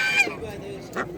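Ducks at a poultry market sound off with a couple of nasal honking calls, close by, short bursts with a brief pause between, amid market background.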